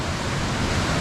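A waterfall in full flow beside a forest beck on a hillside walk, a steady broadband roar of rushing water that stays close and even for the whole second, with no voices over it.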